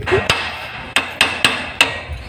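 A hammer strikes metal while a knuckle bearing is replaced on a Honda Wave 100 motorcycle. Five sharp, close, ringing blows land at uneven intervals, with no talking.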